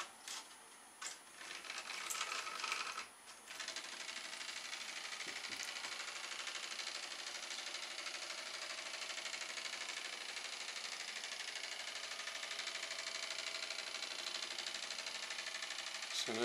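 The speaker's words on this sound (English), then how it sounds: "That's our nail shaper powering a boat" A small electric nail shaper motor powering a toy boat whirs continuously at a steady high pitch after a few clicks and brief stops, close by with no talking.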